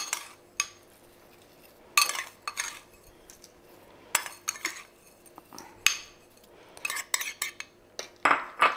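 Salted courgettes and peppers being stirred for relish, sharp metallic clinks and scrapes of a spoon against a bowl in irregular bursts separated by quiet pauses, close and clear, no talk.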